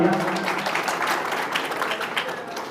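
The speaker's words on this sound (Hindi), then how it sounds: "एक बार जोरदार तालियां।" Audience applause at a school award ceremony honouring student achievers, a brief burst of clapping from a seated crowd with some voices underneath, steady and moderately loud.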